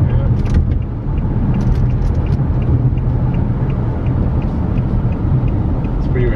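A widebody Nissan 370Z with all-wheel drive is heard from inside while driving. A steady, loud low engine and road rumble fills the cabin, with faint rattles on top and people talking now and then.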